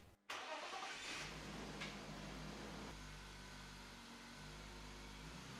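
A BMW car engine cranks and catches after a brief silence, then runs steadily with a low, loud rumble that holds close throughout.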